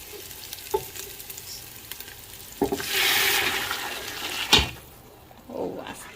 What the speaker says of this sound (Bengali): এখন পানি ঢেলে দিব।